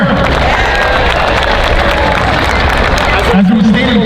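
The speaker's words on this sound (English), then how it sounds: "Another round of applause for Mayor Pat Kramer." A large stadium crowd at a ribbon-cutting ceremony claps and cheers loudly and continuously, with shouts rising over the dense wall of applause.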